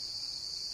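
Crickets chirp in a steady, unbroken high drone at night, alone and fairly faint, with no other sounds or voices.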